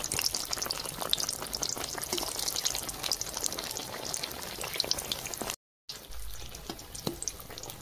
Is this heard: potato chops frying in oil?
yes